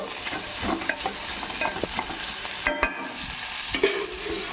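Ridge gourd pieces fry in a pan with rock salt, giving a soft sizzle broken by scraping, clacking stirring strokes and a few sharper knocks of the spatula.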